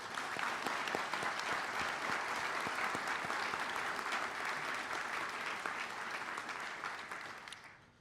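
Sustained audience applause at a fire chief's oath of office ceremony, a dense wash of many hands clapping steadily for about seven seconds before fading out at the end.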